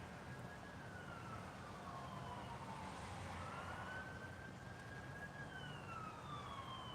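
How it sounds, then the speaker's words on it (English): An ambulance siren wails in the distance over steady traffic rumble in Pigeon Forge, its tone sweeping up and down as it slowly passes. "Ambulance"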